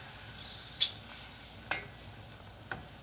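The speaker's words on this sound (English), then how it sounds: "so I'm adding in the flour right now. Keep on stirring that" Flour stirred into melted butter in a pan, with soft spoon scrapes and a few sharp taps against the metal over a faint, steady sizzle. No voices.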